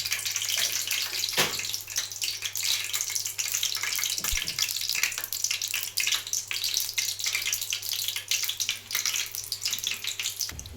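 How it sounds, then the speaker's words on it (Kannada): Mustard seeds and cumin splutter in hot oil in a home kitchen, a continuous bright crackling sizzle with scattered sharper pops, steady and close. "ಎಣ್ಣೆ ಕಾದತ್ರಿ, ಸಾಸಿವೆ ಜೀರಿಗೆನೂ ಚಟಪಟ ಅನ್ಸಿಡ್ದು ರೀ"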